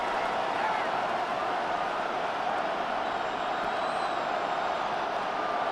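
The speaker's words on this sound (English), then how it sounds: "The Arrowhead crowd in full roar." A football crowd at Arrowhead Stadium roars in a dense, unbroken wall of distant cheering noise that holds steady throughout.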